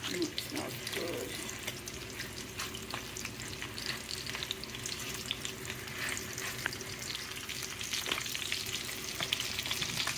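Thick grouper fillets fry in a pan with a steady, close crackling sizzle that runs throughout, broken by occasional brief clinks and scraping sounds.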